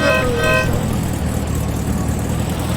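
A car horn in the driving game The Long Drive gives a short honk or two at the start over a loud, steady engine rumble.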